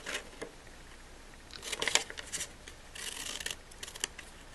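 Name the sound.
cutting out paper labels with scissors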